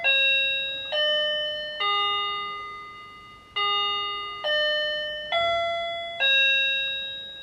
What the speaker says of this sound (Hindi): जब भी बजर बजेगा तब हम स्टार्ट कर देंगे